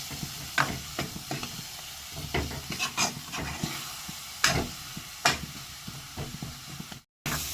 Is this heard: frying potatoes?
yes